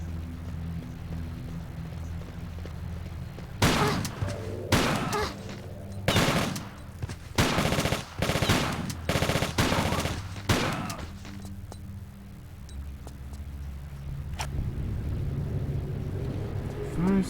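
Shotgun blasts in the PC game Tomb Raider 4, fired in a burst of about eight sharp, loud reports spaced roughly half a second to a second apart, standing alone over a low background rumble.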